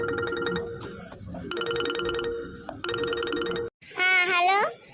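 A mobile phone ringtone plays in repeated bursts of electronic melody with short gaps, then a brief pause and a different warbling tone, loud and close under some background voices.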